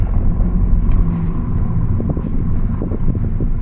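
A Fiat Egea car engine with a chronic engine noise fault runs as a steady, loud low rumble close by, holding an even drone throughout with faint rattly ticks on top and no talk.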